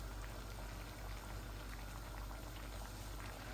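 Apple pickle made with cooking apples bubbling steadily in a pan over medium heat, a continuous close wet boiling and popping texture with no talk.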